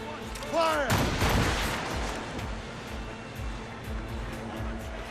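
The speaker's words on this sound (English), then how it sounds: "Fire! Use explosive shot to slow her down!" Ship cannons in Assassin's Creed Rogue fire explosive shot in a naval battle, a heavy booming volley with rumbling echoes over sea ambience and faint shouting in the background.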